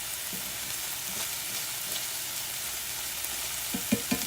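Onions caramelizing in a skillet with pieces of beef give off a steady close sizzle, with a few light scrapes of stirring near the end and no voices.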